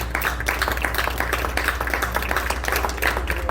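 A church congregation claps steadily and loudly for several seconds, a dense wash of hand claps with no pauses.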